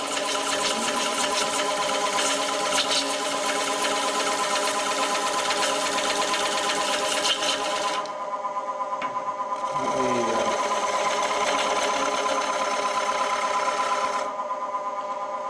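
A wood lathe spins while a woodturning gouge rides its bevel and cuts a continuous curl of chips, giving a steady buzzing hum with a rough scraping texture and a short dip midway, loud and close.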